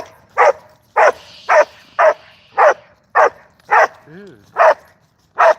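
A black dog barks in a steady series of about nine sharp, loud barks spaced roughly evenly, close by, with a brief whine between barks and a person speaking briefly.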